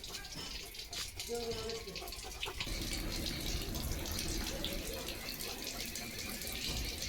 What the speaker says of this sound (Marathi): नळाचं पाणी कसं पडतंय शॉवर